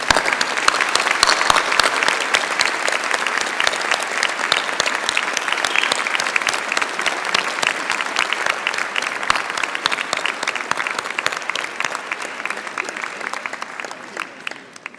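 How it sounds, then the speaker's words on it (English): A graduation ceremony audience at Swinburne claps in sustained applause: a dense, even wash of many hands filling the hall, slowly tapering toward the end. "Please join me in applause."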